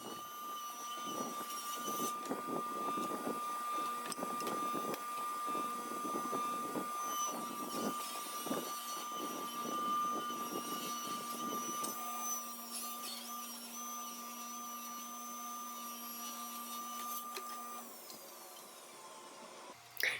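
Table saw ripping wood pieces for a shadow box with a push block, a steady loud machine whine with cutting noise for about twelve seconds before it settles into a constant hum as the blade runs freely.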